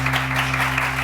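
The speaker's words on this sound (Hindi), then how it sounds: "पहले खोल के तालियां बजाओ जरा।" Studio audience on a Pakistani morning show clapping at an even, steady level for about a second, with a constant low electrical hum beneath and no speech.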